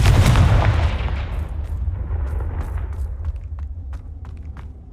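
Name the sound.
Confringo explosive spell cast in a wizarding video game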